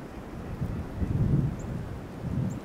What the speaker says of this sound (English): Comes a big gust.